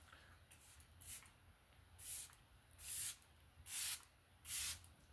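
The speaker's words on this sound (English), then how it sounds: "And we're going to spray." A setting spray mist bottle is pumped five times at close range, each spritz a short, bright hiss with gaps between, starting faint and growing louder in the later sprays.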